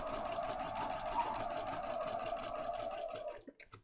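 A sewing machine stitches a lace tag onto a junk journal page, a steady quiet rapid whirring with fine rhythmic needle pulses, stopping near the end with a few soft clicks.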